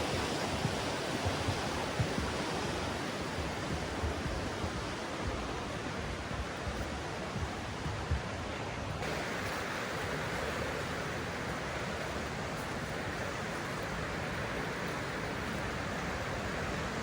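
A small waterfall beside a bridge rushes in a steady, dense broadband wash of falling water, continuous and fairly close with no voices.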